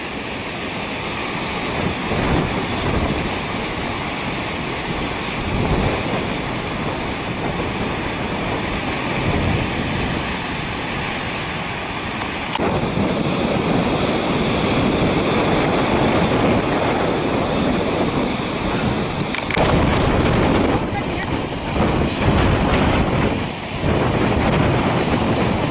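Ocean waves and strong wind on the Atlantic coast near Finisterre, Spain, a loud continuous roar of surf with gusts buffeting the microphone, and no voices.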